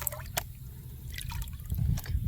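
Water sloshes and drips as paydirt and black sand are washed in a gold pan, giving soft close splashes and trickles with a brief swirl toward the end, fairly quiet.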